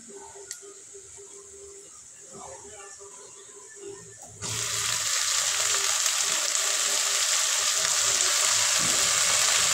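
Fenugreek greens hit hot oil over fried golden onion, jumping from a quiet stir into a loud, steady sizzle that holds to the end.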